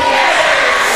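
A wrestling event crowd roars with loud, steady cheering and shouting that stays dense and unbroken from start to finish, with no single voice standing out.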